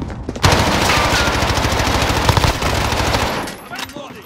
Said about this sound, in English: Damn, he got shot.